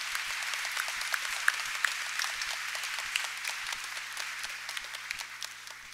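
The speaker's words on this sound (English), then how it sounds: "Let's give her another round of applause." A sustained round of applause from an evening audience at a school event honoring teachers, dense steady clapping that holds at an even level with a few sharper individual claps standing out.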